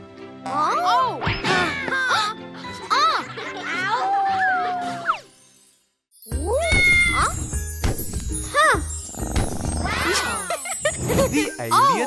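A cat meows repeatedly in loud, close, drawn-out cries, pausing briefly partway through and then resuming with jingly background sounds mixed in.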